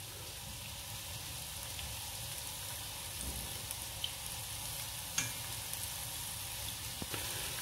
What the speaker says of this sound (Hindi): एक फ्राई पैन के अंदर 2 टेबलस्पून कुकिंग ऑयल लेके अपनी फ़िश को हम फ्राई कर लेंगे